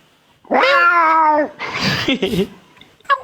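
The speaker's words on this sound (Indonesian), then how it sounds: "Kucing." A cat lets out one loud, drawn-out meow close by, followed by a burst of softer mixed sounds and a short final chirp.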